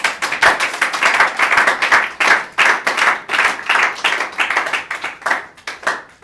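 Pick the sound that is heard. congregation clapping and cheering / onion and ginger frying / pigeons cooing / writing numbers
congregation clapping and cheering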